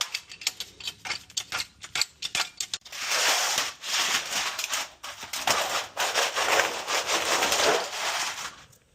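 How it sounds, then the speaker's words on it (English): A Jeep JK being raised with a jack, steady close mechanical rubbing and ratcheting that starts as scattered clicks and settles into a continuous grinding sweep, with no talking. "Now that they're loose, we're going to jack the Jeep up"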